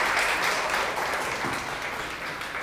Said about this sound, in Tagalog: Palakpakan naman natin si Jesus